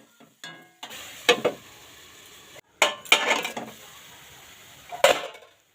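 Watery red amaranth greens with salt and turmeric are stirred in a pan, heard as a few separate bursts of scraping and wet sizzle, each ending with a utensil clank and followed by short silences.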